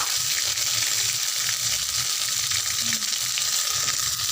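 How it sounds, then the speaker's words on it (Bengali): Ginger and cumin paste frying in a pan, a dense, loud, unbroken sizzle close by with a faint low rumble under it. "জিরে বাটা ভালোভাবে ভেজে নেব।"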